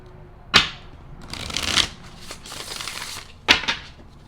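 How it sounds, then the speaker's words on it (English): Tarot cards shuffled by hand, with sharp riffling bursts at the start and end and a longer sliding shuffle between, close and clear with no talk. "Just heard shuffle again."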